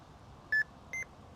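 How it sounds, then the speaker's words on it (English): Carp fishing bite alarm beeping twice as it is switched on beside a lake, two short, clear electronic tones about half a second apart over faint outdoor background. "Turn the buzzer on, and away we go."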